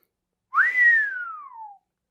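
A single clear whistled note that slides up quickly, then glides slowly downward, held for over a second, close and fairly loud.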